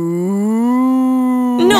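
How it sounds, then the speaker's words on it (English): A single long, loud cow moo, steady and close, cut off at the end by a burst of other sound. "No, Bartolito, that's a cow!"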